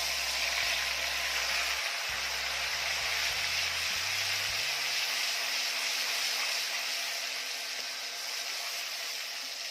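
A coarse green spinach paste fries in plenty of hot oil with a constant, even hiss, while a low appliance-like hum steps down and fades away in the first half.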